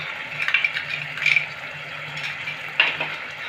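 Ground poppy seed paste added to a pan with potol and stirred, producing soft scraping and rattling stir strokes in short bursts over a faint, quiet sizzle.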